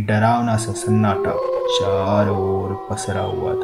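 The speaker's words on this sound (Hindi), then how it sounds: "बंगले के बाहर से कुत्तों के रोने की आवाज़ें लगातार आ रही थी" Dogs howl in long, wavering cries outside a bungalow at night, running steadily beneath a narrator speaking in Hindi.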